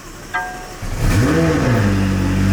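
A car engine cranks and catches, then revs up loudly with a rising, wavering roar that settles into a steady, close idle growl during a late-night drive.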